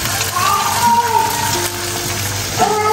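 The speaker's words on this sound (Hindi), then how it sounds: "देखिए जी, ये फ्राई हो रहे हैं।" Papads deep-fry in hot oil, giving a steady bubbling sizzle that runs throughout while someone talks over it.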